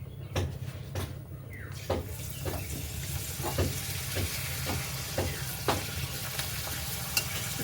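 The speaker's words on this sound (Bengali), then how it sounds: "পাঁপড়টা আমি তেল ঝরিয়ে ভালো করে ভেজে নেব।" Papad fries in hot oil, drained well, while a khichuri of green moong dal and papaya is being prepared. A steady close sizzle is broken by repeated sharp scraping and tapping strokes at uneven intervals.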